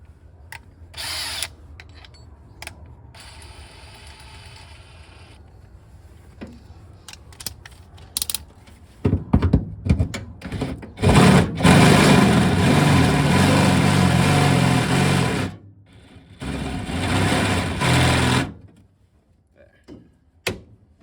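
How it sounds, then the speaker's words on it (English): A power drill with a 1/2 inch bit bores through the rusty bed of a Ford F250 pickup, whining and grinding loudly in sustained bursts after scattered clicks and clanks of handling. "I think we'll just take the 1/2 inch bit and put it through"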